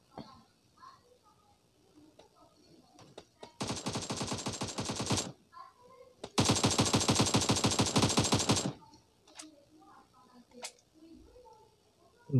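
Automatic gunfire in a multiplayer shooter video game, with two long, loud rapid-fire bursts of several seconds each, surrounded by quieter in-game sounds and players talking.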